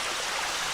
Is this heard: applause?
no